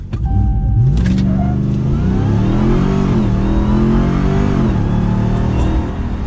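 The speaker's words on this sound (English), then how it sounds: "the owner has allowed me to use launch control" A 2022 Ram TRX 1500 Sandblast Edition pickup's engine revs loudly on a launch control start, with a steady, close roar and rising, shifting harmonic tones running unbroken from start to finish.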